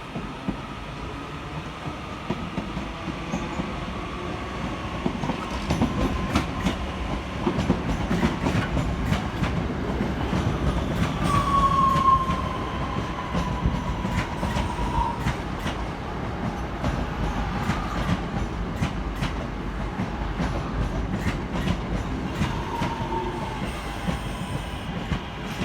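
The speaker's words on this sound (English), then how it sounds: "we see the arrival of 323227 and 323226, working the 1213 Northern service from Blackpool North through to Manchester Airport" Northern class 323 electric units arriving at Manchester Oxford Road station on a Blackpool North to Manchester Airport service: a continuous wheel rumble with rhythmic clatter over rail joints, brief squeals, and a faint tone, heard without talk.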